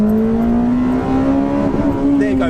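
A Honda Civic Type R FD2 engine revs hard and holds near its roughly 8,700 rpm limit, a loud, steady high-pitched wail that climbs slightly throughout, heard close from inside the car.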